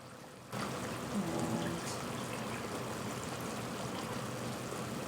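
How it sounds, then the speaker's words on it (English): Two cups of water poured into a pot of chicken curry made with curry paste, a steady continuous splashing stream that starts abruptly and runs on, fairly faint and close. "Going to add 2 cups of water here."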